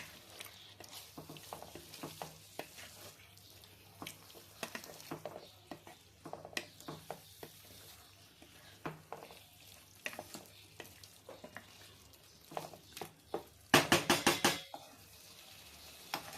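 Curry spices for malai enchor cook in a pan with a little boiled water, quiet sizzling under irregular spoon scrapes and taps against the pot, ending in a quick run of louder metal clatters, close with no talking.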